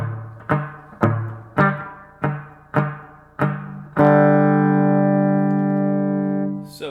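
Electric guitar through a Positive Grid Spark amp plays a series of evenly spaced plucked notes, each echoing with delay, then a sustained chord that lingers and fades with repeating echoes.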